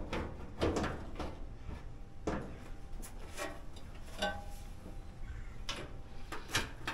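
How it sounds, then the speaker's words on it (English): Plastic and metal clicks and knocks come as the front panel of an LG Dle2050W dryer is fitted onto its tabs, a scattered series of sharp close taps and rattles with no talking. "Now we can put on our front panel, put the notches on the tabs."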